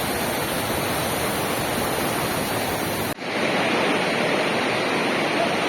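A Brazilian waterfall near Joanópolis in São Paulo state roars as a steady, dense wash of water noise, continuous and loud with no voices.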